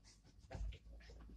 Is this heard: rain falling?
no